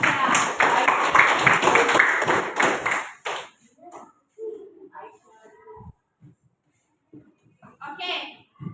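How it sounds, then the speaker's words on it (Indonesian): A classroom group claps for a student, a dense burst of hands lasting about three seconds before stopping abruptly, followed by quiet and scattered faint voices. "Kasih dulu tepuk tangan untuk Aisyah."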